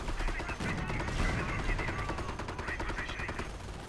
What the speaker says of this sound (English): And I can just hear marksman's fucking mortars